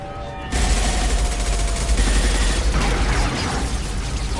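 Dense, sustained gunfire from a Mass Effect 2 firefight bursts in after a brief quiet start and rattles on loudly and continuously, with heavy low-end booms under rapid overlapping shots.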